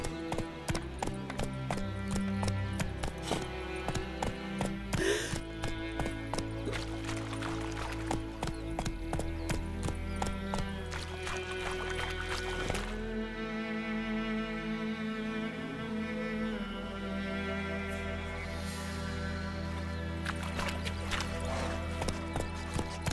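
Roach, Geralt's horse in The Witcher 3, clip-clops along at a steady walking rhythm, hoofbeats fairly close and mixed with a continuous game score; a brief whinny may surface partway through.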